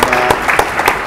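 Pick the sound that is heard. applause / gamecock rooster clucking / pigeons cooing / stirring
applause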